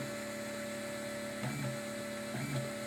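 A Dagoma Magis 3D printer runs its automatic bed-leveling test, its motors whining steadily with two short bursts of clicking movement as the probe touches down, close and moderately loud.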